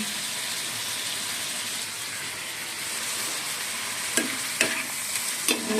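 Food is stirred in a sizzling pan, a steady frying hiss running throughout, with a few sharp scrapes and knocks of the utensil near the end.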